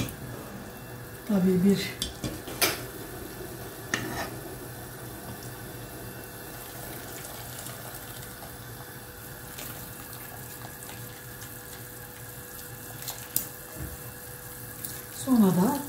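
Food being washed by hand in a bowl of cold water at a kitchen sink, with splashing, a running tap and a few clinks of dishes, while someone talks briefly.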